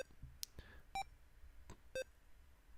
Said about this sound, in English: Beep.